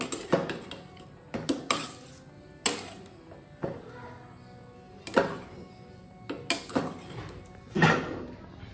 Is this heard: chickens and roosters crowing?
no